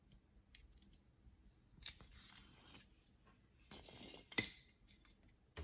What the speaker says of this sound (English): And cut my waist yarn, my cast on thread rather.